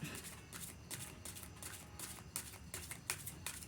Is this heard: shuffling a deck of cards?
yes